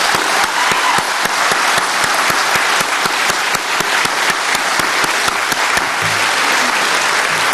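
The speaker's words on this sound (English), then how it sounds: "McGee Tyson, round of applause, please." Audience at an aviation hall of fame ceremony applauding a Civil Air Patrol color guard, steady loud clapping from many hands with distinct sharp claps standing out, continuing throughout.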